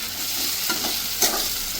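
Chopped tomato and onions fry in a pan in a Bengali-style doi katla (curd fish curry) preparation, giving a steady broadband sizzle with brief stirring scrapes near the start and end.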